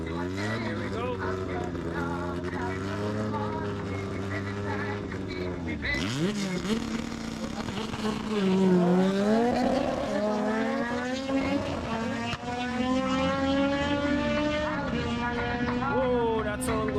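All-motor K-series drag car Project X accelerating hard down a drag strip in the Caribbean, loud rising engine tones climbing through gear changes with a shift near the midpoint, close and sustained, with voices talking over it.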